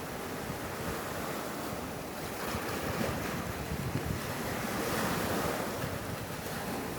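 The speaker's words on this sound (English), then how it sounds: "Waves carried them from side to side." Stormy ocean surf rolls and crashes steadily amid gusting wind, a dense, continuous roar of water that swells louder toward the middle and end, with no voices.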